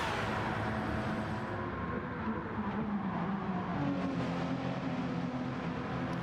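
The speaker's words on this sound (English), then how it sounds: "we have an actual engine sound." A race car engine in Gran Turismo 7 drones steadily at high revs through an endurance race between Toyota and Hyundai cars, dense and continuous without any voices.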